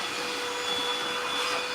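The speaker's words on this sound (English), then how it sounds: "Hold on, let me vacuum." A vacuum cleaner runs close by with a steady, loud, unbroken roar and whine throughout.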